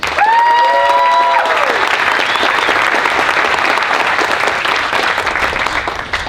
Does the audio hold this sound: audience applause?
yes